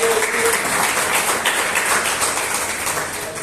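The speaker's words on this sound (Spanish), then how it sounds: "Cuántos pueden dar un fuerte aplauso a la palabra" A church congregation claps together in sustained applause, a dense patter of many hands that fades slightly toward the end.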